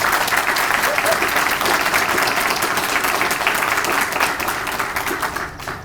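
A crowd at a police swearing-in and promotions ceremony applauds a newly promoted officer, dense steady clapping filling the room for several seconds before tapering off slightly at the end.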